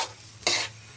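A spatula briefly stirs fried rice with pechay in a pan, making a single short scraping swish over a soft background sizzle.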